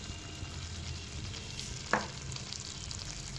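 Carrots, capsicum and green chillies frying in a pan, a steady hiss running throughout with one brief stirring scrape near the middle, faint and with no voices.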